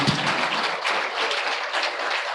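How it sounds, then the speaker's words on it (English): Audience applause after the signing ceremony for the IATF 2023 hosting agreement, a soft, dense patter of clapping from a seated crowd, fairly distant and steady. "sans manquer de recevoir vos applaudissements, mesdames et messieurs, pour cette cérémonie"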